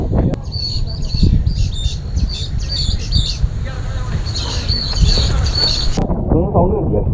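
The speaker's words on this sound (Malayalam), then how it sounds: "കുറേ പക്ഷികളുണ്ട് കേട്ടോ. കിളികളുടെ ഒച്ച കേട്ടില്ലേ?" Birds chirp and twitter in bursts from the forest along a walking trail between Vagamon and Madammakulam in Idukki, fairly clear above a low rumbling background, with a voice briefly heard near the end.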